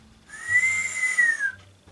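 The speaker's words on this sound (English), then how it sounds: "Yes, I can whistle." A person whistles a single sustained, slightly wavering note that rises then dips, close and clear for about a second and a half against a quiet room.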